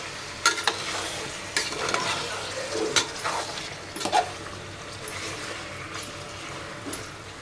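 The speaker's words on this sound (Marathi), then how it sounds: "आता चिकन आपल्याला छान इथं तेलामध्ये असं परतून घ्यायचं आहे." Chicken pieces sautéed and stirred in hot oil for a spicy Malvani chicken curry, with steady sizzling and frying under scattered scrapes and clinks of a stirring spoon against the pan, close and continuous.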